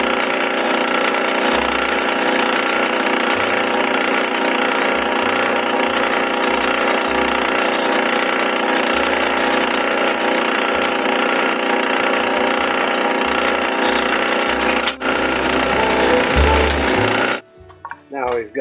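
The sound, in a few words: drilling and counterboring holes in wooden end table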